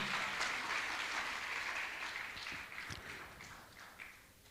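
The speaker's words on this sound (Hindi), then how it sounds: "मैं चाहूंगा जोरदार ताली देकर का सम्मान करें" An audience at a Jain community gathering claps to honour a guest, a moderate wash of applause that slowly fades out over a few seconds.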